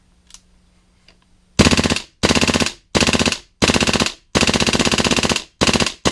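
A WE MK18 MOD 1 airsoft rifle fires on full auto, six or seven sharp, loud rapid bursts separated by brief pauses, after a couple of faint mechanical clicks.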